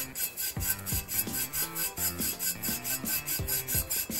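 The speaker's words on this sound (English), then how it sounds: "I'm just going to use a dry brush, a chip brush to dust off any excess glitter." A dry chip brush dusts excess glitter off a double-sided sticky sheet, making close, rhythmic scratchy strokes, about ten quick sweeps in a steady back-and-forth pattern with no voices.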